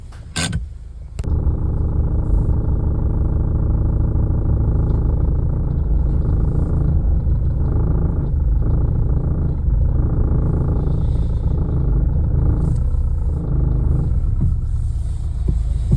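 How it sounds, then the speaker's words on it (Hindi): Steady low rumbling drone from a Mahindra Scorpio-N car with an unresolved unwanted noise after its second service, heard continuously at close range after a brief knock at the start, with no talking. "गाड़ी का जो मेन इशू था यहाँ से जो आवाज़ आ रहा था वो अभी तक सॉल्व नहीं हुआ।"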